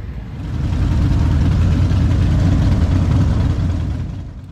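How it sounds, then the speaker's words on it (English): Several Harley-Davidson motorcycles idle together at the start of a H.O.G. rally ride in Cromwell, Central Otago, a deep, steady low rumble that swells in, holds evenly, then eases off slightly. "Well, the engines have started now,"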